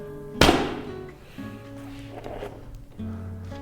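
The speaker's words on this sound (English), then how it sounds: "I'm now gonna take 50 shots with some nasty broadheads." A single sharp thunk of a broadhead arrow striking a foam archery target, close and loud, followed by a short decaying rattle and low background hum.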